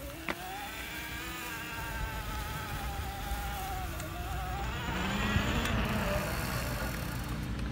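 A Bafang M600 mid-drive motor on a Luna Cycle X-1 e-bike running at 52V, full throttle up a hill, gives a loud, steady whine that slowly rises and shifts in pitch, with wind and road noise underneath.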